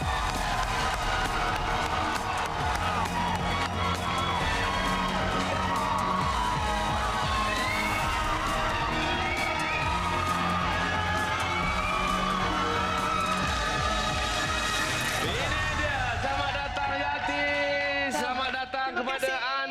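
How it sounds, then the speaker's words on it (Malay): A studio audience at a Malaysian TV game show claps and cheers for a married couple, a dense, sustained roar of applause and whoops under loud music and a host's voice. "Kita berikan tepukan gemuruh untuk pasangan suami dan isteri"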